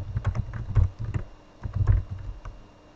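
Typing a password on a computer keyboard: a short, close run of soft key clicks and thumps in two small bursts, with no talking.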